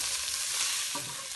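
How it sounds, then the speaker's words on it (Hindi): Crushed chicken sizzles in a hot pan as it is lightly sautéed for a soup, giving a steady, close frying hiss with a brief stir partway through. "ये चिकन जो हमने क्रश करके रखी है ये भी डाल देंगे। बस भूनना नहीं, थोड़ा सा इसको सौते करेंगे हल्का"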